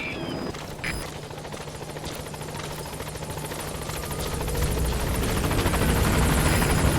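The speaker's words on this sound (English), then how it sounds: "I'll send the extraction chopper" An extraction helicopter in Metal Gear Solid V: The Phantom Pain thumps with a steady rotor chop that rises and grows louder as it closes in, with no voices over it.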